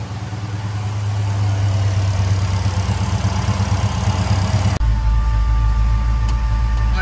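A 1976 Pontiac Trans Am V8 idles around 800 rpm after a fuel injection install, a steady low rumble close by that shifts slightly in tone partway through.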